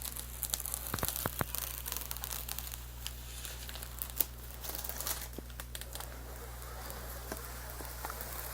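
Protective film being peeled off a PC part during a gaming PC build, a faint continuous crinkling and crackling with a few sharper ticks over a low steady hum.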